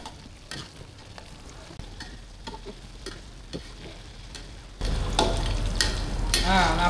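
Garlic sizzling and frying in hot oil for turmeric chicken wings, a steady crackling hiss with scattered pops and stirring, growing noticeably louder and denser partway through.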